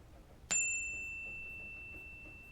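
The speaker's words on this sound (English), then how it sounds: "I'm about to chime a bell." A single meditation bell is struck once, giving a bright, clear strike that leaves pure ringing tones hanging and slowly fading for a couple of seconds in a quiet room, with no talking.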